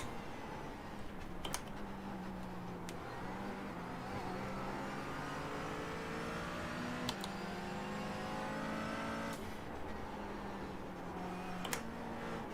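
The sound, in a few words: race car engine in the iRacing video game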